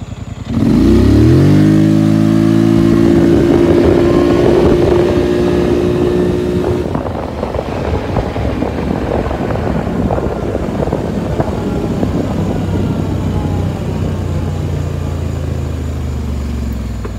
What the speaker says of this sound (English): this will be a wide open throttle hit in performance mode, two-wheel drive